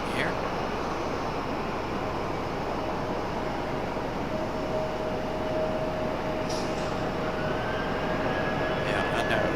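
A plane departs Raleigh-Durham airport, a steady, loud engine roar that holds evenly throughout with a faint rising whine, heard at a distance across the airfield.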